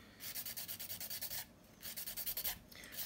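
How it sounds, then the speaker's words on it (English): A hand file rasps over a polygel nail in quick rhythmic back-and-forth strokes, close and quiet, one run of strokes, a short pause, then a second run. "I'm not fussy about filing this thin."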